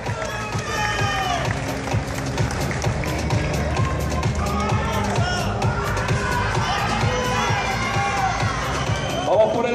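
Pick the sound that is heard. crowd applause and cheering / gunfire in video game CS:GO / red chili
crowd applause and cheering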